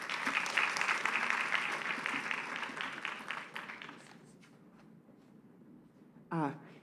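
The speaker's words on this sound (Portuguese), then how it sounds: "Uma salva de palmas." Audience applause at a book launch during a geography education seminar, steady clapping for about four seconds that fades out, followed by a brief spoken remark.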